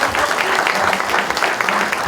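Audience applause fills a horror-film cast Q&A at the Hudson Horror Show, steady dense clapping from a crowd throughout with a faint voice mixed in.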